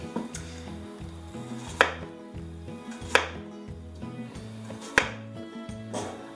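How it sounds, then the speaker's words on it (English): Knife chopping zucchini on a cutting board: a few sharp, irregular thwacks spaced about a second apart over a low, steady background hum. "I'm not a pro at chopping zucchinis"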